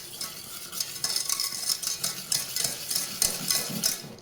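Sugar being stirred in a pan for a poppy seed cake cream, giving repeated close scraping strokes that come in a continuous, uneven rhythm with no speech.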